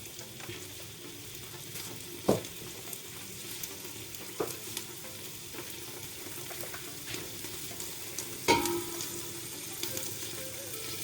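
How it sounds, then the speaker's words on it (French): Spices with salt and pepper dry-toasting in a pan for vegetable couscous, a faint continuous crackling sizzle broken by a few sharp clicks and knocks of a spoon or container against the pan. "Donc comme ça je torréfie bien les épices."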